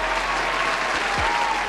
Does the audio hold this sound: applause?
yes